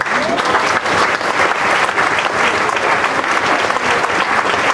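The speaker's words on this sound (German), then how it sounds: "das ist ein extra Applaus wert" A crowd at an AfD Political Ash Wednesday rally in Osterhofen gives loud, dense, sustained applause throughout, with no voices standing out.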